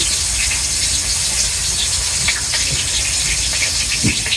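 Chopped onion dropped into hot oil with bay leaf in a home kitchen pan, a loud, continuous hissing sizzle filling the whole stretch with no talk over it.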